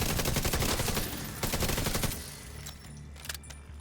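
Sustained automatic gunfire from a firefight in The Division 2, dense rapid bursts for about two seconds, then thinning into scattered shots and impacts.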